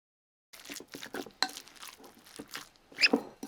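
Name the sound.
kneading pork filling by hand with gloves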